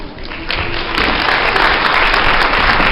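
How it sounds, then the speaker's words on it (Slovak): Loud applause from a group rises quickly and keeps going as a dense, steady wash of clapping for nearly three seconds. "Obrovský, tichý potlesk, ako sme si to zaužívali prednejšou."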